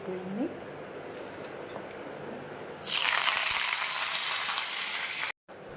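Green chilies and curry leaves hit hot oil as tempering for an ivy gourd and tomato chutney, bursting into a loud, steady sizzle partway through after a quieter opening with faint background sound.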